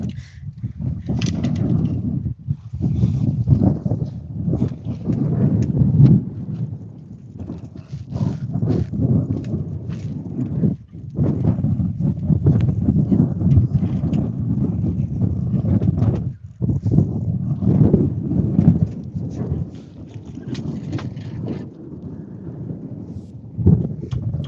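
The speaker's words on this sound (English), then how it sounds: "That wind is picking up, man." Wind blows across Coffey County Lake during a one-on-one fishing tournament, a steady, loud, low rumbling that buffets the microphone for the whole stretch with brief dips and no talking.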